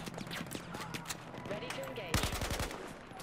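Gunfire in the Battlefield 4 video game: a loud close burst of rapid shots near the end, with scattered fainter shots earlier under a busy battle soundscape.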